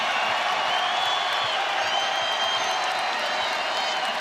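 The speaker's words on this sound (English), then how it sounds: "The crowd on their feet," Basketball arena crowd on its feet, roaring and cheering in a dense, continuous wash of voices and whistles that stays loud and steady from start to finish.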